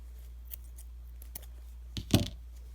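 Scissors snip through crochet yarn in one quick, crisp cut near the end, preceded by a few faint rustles over a low steady hum.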